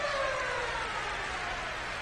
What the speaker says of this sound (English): Up against the boards as the siren goes and the period ends.